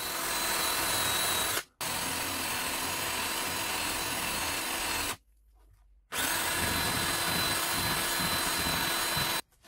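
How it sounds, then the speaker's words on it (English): A power drill grinds through the rivets holding a circuit breaker together, loud and steady in three long bursts separated by brief pauses, with no talk. "I'm just going to drill the tops off of these rivets"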